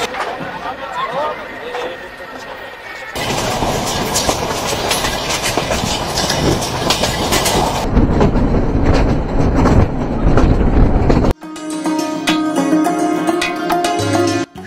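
Trains rumble on the rails at Chuadanga railway station during a crossing with two trains standing, a loud continuous rolling clatter with shifting intensity and abrupt changes in the mix, and voices faintly present.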